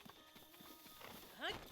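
Horse hooves clop at a steady trot through a town in Zelda: Breath of the Wild, a rhythmic series of soft, moderately close hoofbeats with a brief whinny-like rising call near the end, all fairly quiet.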